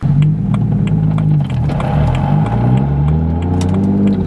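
A 750 hp BMW 135i fitted with a twin-disc clutch pulls away, its engine droning loud and close, rising and dipping in pitch over a few seconds.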